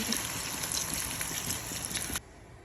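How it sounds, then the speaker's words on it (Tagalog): Water pours steadily into a soup pot with a soft, hissing gush, then stops abruptly near the end. "Magada ko ng tubig."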